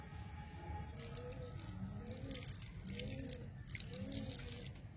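Milk mixed with food colouring is poured into a pot of chicken biryani, a faint soft trickle and splash set against quiet background noise, with a voice and birdlike chirps faintly present.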